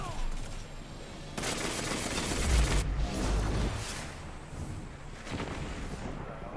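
Gunfire in a Destiny 2 Crucible multiplayer match: bursts of rapid shots and heavy booming impacts, loud and dense in the middle, then sporadic cracks trailing off.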